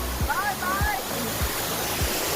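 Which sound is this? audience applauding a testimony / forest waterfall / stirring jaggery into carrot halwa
forest waterfall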